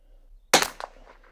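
A single sharp, loud report from a Bergara BMR .22 Long Rifle cracks out of near silence. A shorter, fainter echo or follow-up pop comes a moment later.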